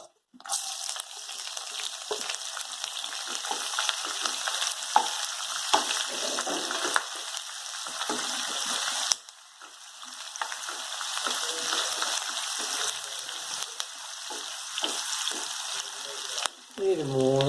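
Sliced onion tossed into a pan of browning grated coconut for Kerala-style beef fry, sizzling and frying loudly and steadily with stirring scrapes, a short break midway, and a voice speaking briefly.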